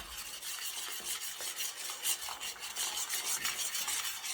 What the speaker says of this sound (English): Okay, so I'm going to stir it and cover it back up.